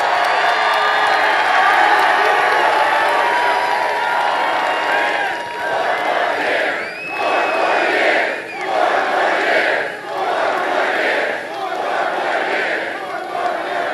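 A large crowd at a Trump rally in Pennsylvania cheers and shouts loudly, a dense roar of voices with rising chants and whoops that swell and dip in waves.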